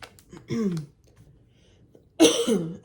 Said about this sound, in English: I'm needing to clear my throat right now